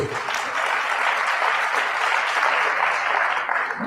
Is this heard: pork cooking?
no